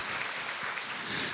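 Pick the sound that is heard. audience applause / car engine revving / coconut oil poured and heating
audience applause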